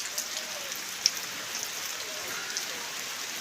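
Monsoon rain falls steadily in a village, a soft even hiss of drops with a few small pattering hits, moderately distant and unbroken, no voices.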